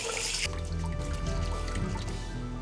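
Tap water running steadily over rice being rinsed in a bowl for Korean makgeolli rice wine, with a brief louder splash at the start, then a continuous close trickle and slosh.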